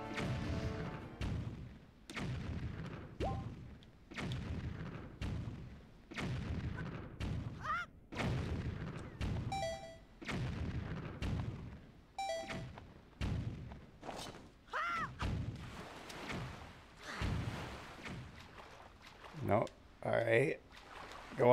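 Bombs bursting in The Legend of Zelda: Wind Waker HD, with a long series of sharp thuds and booms at irregular intervals, some loud and close, under frequent game effects.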